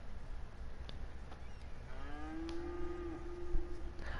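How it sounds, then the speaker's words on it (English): Cattle in rural Brazil give a single long, loud moo that rises and holds steady for about two seconds, standing out over a constant low background hum with a few faint knocks. "the cows is very loud"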